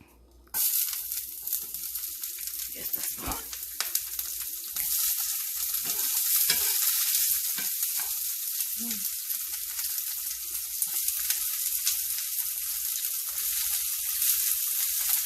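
Onions, red and green peppers, garlic, hot peppers and thyme hitting a hot pot, a loud sizzle that bursts in abruptly and then holds steady and close, with a few faint clunks of stirring.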